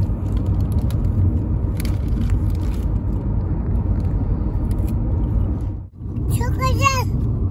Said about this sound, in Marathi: लय फास्ट गाडी पळवतोय.